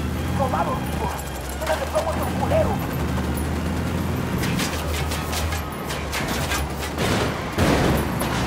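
Gunfire in the tactical shooter game Ghost Recon Wildlands: scattered bursts of sharp, loud cracks come in clusters over a steady low rumble, with voices talking underneath.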